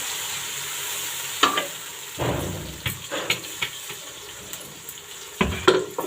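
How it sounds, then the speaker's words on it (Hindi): Masala paste frying with browned onions in a pot for rice pulao, a continuous sizzle broken by repeated spoon scrapes and knocks against the pot, no talk. "अब हम इस टाइम पे इसमें डाल देंगे मसाला जो हमने पेस्ट बनाया है जिसका।"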